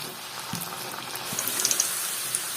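Potato finger chips dropped into hot frying oil set off a bubbling, hissing fry, with soft thumps as pieces go in and scattered crackles rising as the oil churns close by.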